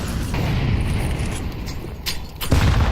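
AK rifle shots ring out in a first-person shooter game, several sharp reports cutting through a dense, continuous wash of game noise, with a heavier burst near the end.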